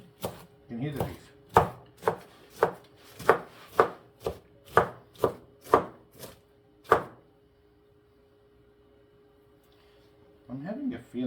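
Knife chopping cabbage into thin slices on a board for a soup with celery and tomatoes, about a dozen crisp evenly spaced chops, close and clear, then a pause before a brief voice.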